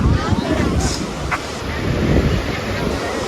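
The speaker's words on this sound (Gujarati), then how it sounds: "અહીંયાથી એકદમ ઠંડો પવન આવે" Steady wind rushes across the microphone at the seashore, a constant broadband roar with faint surf beneath.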